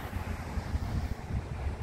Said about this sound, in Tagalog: pero yung simoy ng hangin malamig.